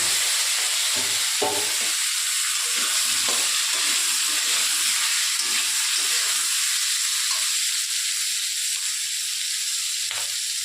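Cut potatoes and tomatoes sizzle steadily in hot oil in a pan, a dense continuous frying hiss with faint stirring scrapes, close and alone.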